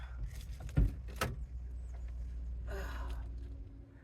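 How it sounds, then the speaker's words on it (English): The back door of a camper van is opened: a couple of sharp latch clunks and knocks, then a softer scraping swing, close by and fairly quiet. "First thing I'm gonna do is open my back door."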